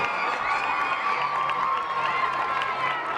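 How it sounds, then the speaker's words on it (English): A crowd at a school relay race for elementary and middle school runners keeps up continuous cheering and shouting for the anchor legs, with children's voices prominent in a loud, sustained roar. "get on your feet and cheer these kids to the line"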